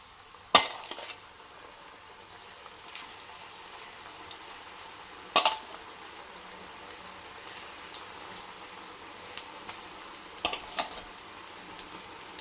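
Onion pakodi batter, spiced with cumin, ajwain and ginger, frying in hot oil, a low steady crackle and sizzle with a few sharper pops and spatters standing out over the quiet bubbling.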